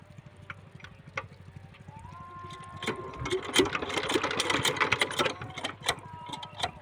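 A 5hp water pump engine being started by hand crank, a rapid mechanical chugging that builds from a faint rhythmic tick into a louder sputtering, knocking run of firing strokes.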